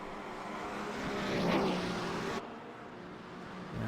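Porsche 935/K3 race car engine lapping Road America's carousel, its broad engine roar swelling loud as it passes on the throttle, then dropping to a lower drone as the driver lifts off before picking up again.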